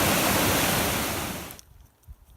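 Rough, silty glacial river water rushing at a crossing on the Pacific Crest Trail, a loud close roar of broadband water noise that cuts away abruptly after about a second and a half to near quiet with faint bumps.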